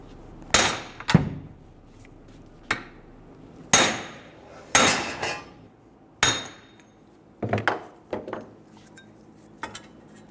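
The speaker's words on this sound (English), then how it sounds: "using a second hammer, we're going to hit the hub out" Heavy metallic hammer strikes knocking the front wheel hub out of a 2011-2014 Hyundai Sonata ring out one at a time at uneven intervals, about a dozen loud clanging blows with short metallic decays.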